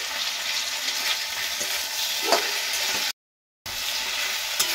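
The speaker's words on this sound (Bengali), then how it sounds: "কিছুক্ষণ পরে আমি ঢাকনাটা তুলে দিচ্ছি আর একবার নাড়াচাড়া করে দিচ্ছি।" Pumpkin frying in an uncovered pan as it is stirred. A dense, steady sizzle fills the clip, broken by light scraping strokes and one brief full silence. No voices.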